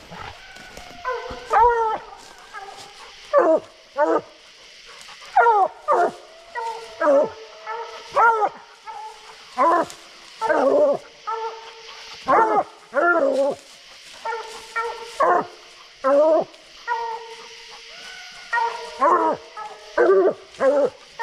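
Bluetick coonhounds bark and bawl at a raccoon up a tree, a steady run of loud, overlapping baying bursts from several dogs close by, repeating about every second with no talk.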